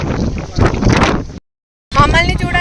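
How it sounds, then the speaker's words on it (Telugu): Strong wind buffets the microphone at the seaside, a loud rough roar that cuts out for about half a second before returning, with a voice underneath it. "ఎట్లా కొడుతుంది గాలి."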